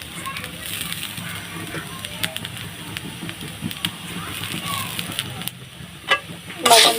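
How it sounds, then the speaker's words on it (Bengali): Rice fries with salt in a pan over moderate heat, giving a soft, constant sizzle with occasional stirring scrapes. A person talks over the cooking sounds, and a louder scrape comes near the end. "চাউলটি আমি এভাবে ভাজতে থাকবো। তো আমি এখন এখানে দিয়ে দেবো পরিমাণ মতন লবণ।"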